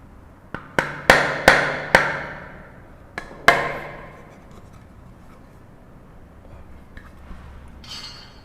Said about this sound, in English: hammer the rest of them in